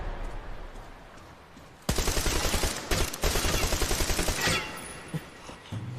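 AK rifle firing a full magazine in a video game: after a quiet start, loud sustained automatic bursts with rapid rhythmic shots run for several seconds, briefly pausing, then tapering off into faint scattered noises.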